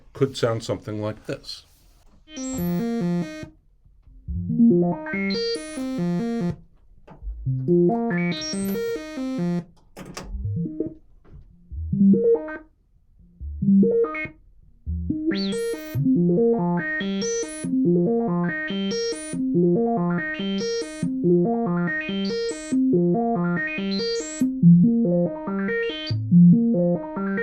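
An analog modular synthesizer runs a sample-and-hold filter with LFO hard sync, making a sequence of stepped, buzzy tones whose brightness jumps on each note in a steady rhythm. A brief spoken line comes first.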